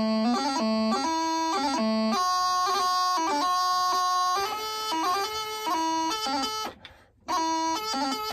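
Highland bagpipe playing a line of the tune Susan MacLeod, with a continuous drone under bright, quickly ornamented melody notes and gracenotes, loud and close, with a brief dip in volume near the end and no speech.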